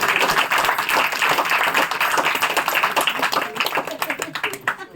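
A church congregation claps loudly in a fast, even rhythm, the sharp hand claps continuing throughout with voices mixed in.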